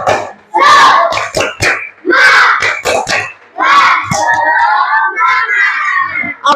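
A classroom of Indonesian schoolchildren performs the tepuk semangat spirit clap as an ice-breaker: loud, close bursts of rhythmic group clapping in short patterns, mixed with children's chanting and shouting voices.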